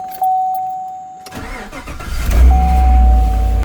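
A truck engine cranks and catches, then settles into a loud, rumbling idle for a brief run, following a quiet stretch with a thin steady tone before the start.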